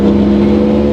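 A Peugeot 208 R2 rally car with a 1.6 engine in a rally service park gives a loud, steady, close engine roar with strong low harmonics.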